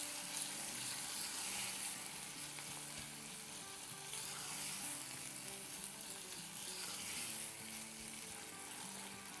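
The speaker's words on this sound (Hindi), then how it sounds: "तो अब टोमेटो को भी सॉफ्ट हो जब तक फ्राई करते हैं।" Chopped tomatoes fry in a pan for a masala egg bhurji, giving a steady, close sizzle with faint stirring clatter throughout and no talk.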